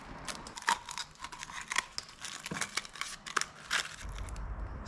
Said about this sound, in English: Get your scissors, stab them in.